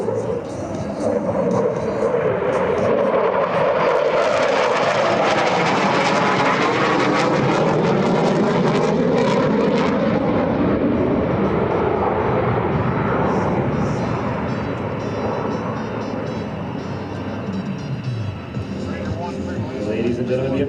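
F-35C Lightning II jet roaring past during an air show demonstration, a loud broad roar that builds, peaks midway and slowly fades as it moves away, with an announcer talking over it.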